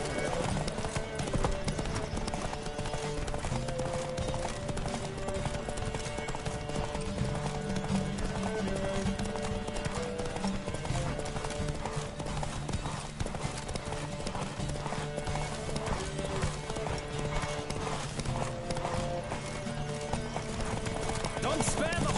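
Galloping horses race in The Witcher 3, a steady, dense clip-clop of hooves running throughout, loud and continuous, with game voices shouting over the hoofbeats and occasional whinnies.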